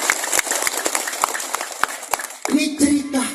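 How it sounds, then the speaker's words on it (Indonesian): A crowd at a community gathering claps for Joni Alamsa, with scattered, sharp hand claps close to the microphone, and a voice begins talking over them near the end. "Tepuk tangan Bu buat Bapak Joni Alamsa ya."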